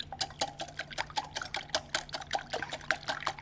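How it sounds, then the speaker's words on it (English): Eggs are whisked briskly in a bowl, the whisk clicking against the sides in a fast, steady rhythm of close, light taps. "we're just going to whisk these eggs."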